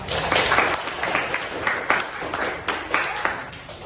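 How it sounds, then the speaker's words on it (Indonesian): Classroom applause from students in an Islamic religious education class, dense clapping at moderate level that swells and fades in uneven bursts. "Beri tepuk tangan yang meriah"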